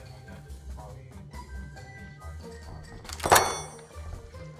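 A grenade goes off in the Granny Simulator video game: a single sharp, loud thunk-like burst rises out of busy game sound and background music, with brief talk around it.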